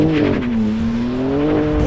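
A BMW M2 CS launches hard from a standstill, its engine note loud and rising steadily through a short, close burst of acceleration with a touch of tire noise.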